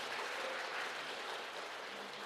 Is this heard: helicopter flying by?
no